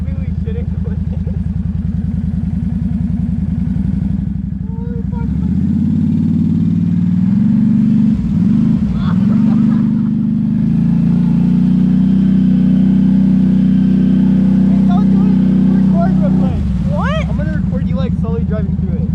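A vehicle pushes through deep floodwater during a severe Manitoba storm, its engine droning loudly and steadily up close with shifting pitch, while voices talk over it.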